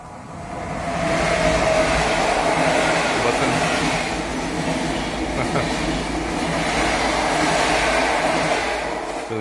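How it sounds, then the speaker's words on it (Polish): A train rumbles past outdoors, a loud, sustained roar with faint rhythmic clatter that swells and then eases slightly, while someone briefly speaks over it. "Ten sam pociąg, co przedostatnio nagrywałem."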